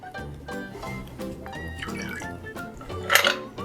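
A Sazerac cocktail poured from a mixing glass through a julep strainer: a brief liquid splash and trickle near the end, over steady background music.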